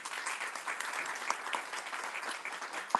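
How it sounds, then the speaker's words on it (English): A round of applause from an audience at an event, brisk clapping heard somewhat at a distance, even and sustained with a few sharper claps standing out. "Let's give her one more round of applause."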